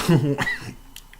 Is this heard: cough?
yes